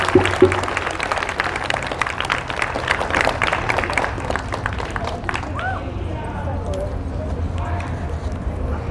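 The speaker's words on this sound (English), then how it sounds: "Round of applause for Jess." A rally crowd at a Stop Asian Hate march in Seattle claps and cheers for Jess, an outdoor burst of applause lasting about five seconds that thins out as a voice starts speaking.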